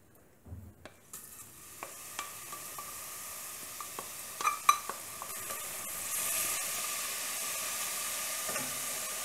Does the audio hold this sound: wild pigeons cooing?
no